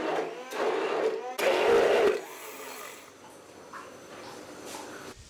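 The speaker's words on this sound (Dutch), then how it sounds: "Die gaan we mixen met een staafmixer of blender." An immersion blender whirs loudly through tomatoes in a few short bursts, with a rough grinding tone, then stops, leaving quieter background rustling.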